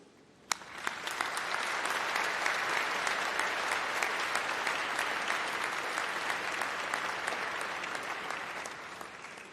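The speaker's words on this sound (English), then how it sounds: "let's give a massive round of applause and huge cheer to say thank you to all of your supporters" Graduation ceremony audience breaking into loud, sustained applause with some cheering, a dense wall of clapping that starts abruptly and holds steady throughout.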